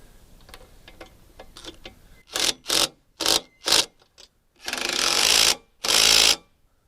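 Bolts on the hinges of a heavy-duty Jeep SportGate tire carrier being tightened, probably with a ratchet, in a run of close, sharp mechanical bursts with brief pauses and two longer sustained stretches, after faint ticking.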